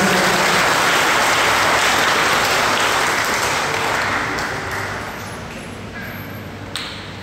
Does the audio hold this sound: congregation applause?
yes